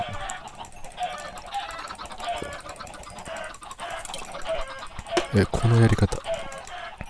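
Flock of chickens clucking in Minecraft, with busy overlapping bird calls that grow louder and denser near the end, under someone talking.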